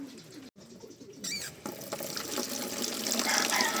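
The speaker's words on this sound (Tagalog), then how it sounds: "babasain natin yung kalapati" Water splashes and sprays steadily onto a pigeon being bathed, starting softly with a brief silence and a sharp burst, then growing into a louder, continuous hiss up close.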